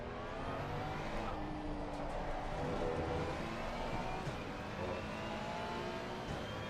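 A Ferrari race car engine in a racing video game drones steadily with a continuous high whine, tire noise mixed in, moderately loud and constant with no voices.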